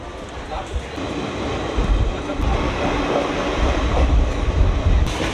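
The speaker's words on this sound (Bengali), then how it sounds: "ট্রেন ছেড়ে দিয়েছে" The Santragachi–Digha summer special train pulls out of Uluberia station, a steady low rumble and rattle of rolling carriages heard from inside, building slightly as it gathers speed, with voices faintly in the background.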